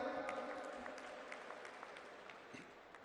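Distant, faint audience applause for minister Aman Arora at a political party conference, a steady wash of many hands clapping without talk.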